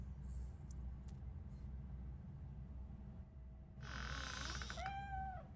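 A cat meows in the video game Black Myth: Wukong, giving a few short, faint calls near the end over a low, steady ambient rumble.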